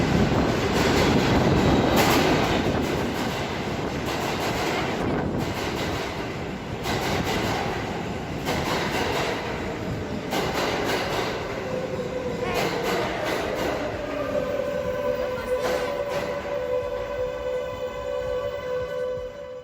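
Train passing close by outside a rented room, a loud rushing rumble that builds and then settles into rattling wheel clatter, with faint metallic squealing tones toward the end.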